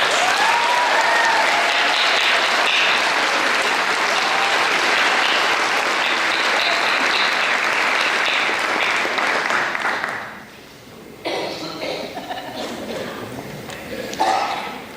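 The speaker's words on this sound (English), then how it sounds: "A huge round of applause for all of our graduates" Loud, sustained applause from a large graduation audience for the graduates of a college campus ceremony, steady for about ten seconds before dropping off abruptly, followed by a few scattered claps and softer crowd noise.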